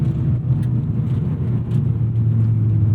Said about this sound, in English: It just requires a bit more of a generous blip.